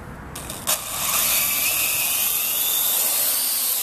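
A helicopter flies and hovers at a distance, giving a steady, loud rotor and engine whir that holds evenly for several seconds after a brief knock at the start.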